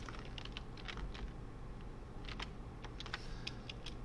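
Someone types on a computer keyboard, entering Python commands: a quiet, close patter of irregular key clicks over a low steady hum, with no voices.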